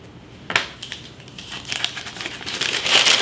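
A brown paper bag used for drying garden herbs crinkles and rustles as it is handled, in uneven close crackles that build louder toward the end.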